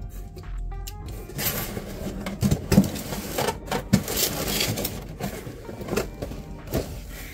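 Cardboard rustling, plastic crinkling and scraping as a 23.8-inch AOC 24B3HM monitor is lifted out of its shipping box, with close, irregular bumps and thuds throughout.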